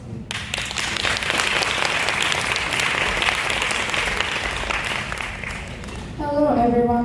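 Audience applause welcoming student presenters of a school project presentation, a dense sustained clapping that fills the room for about six seconds before a voice begins speaking at the end.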